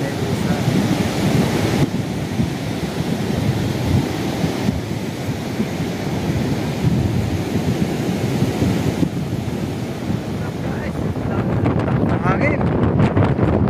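Strong wind roaring steadily against the microphone, a loud continuous rumbling buffet with gusty swells and no clear pauses across the whole stretch.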